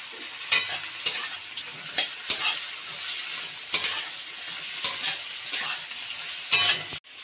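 Tomato and green chili frying with browned onions for a katla fish-head jhal, a constant bright sizzle punctuated by repeated spatula scrapes and knocks against the pan at an uneven rhythm.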